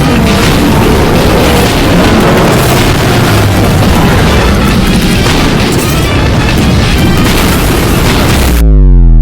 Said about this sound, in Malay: Rasakan alien bazooka.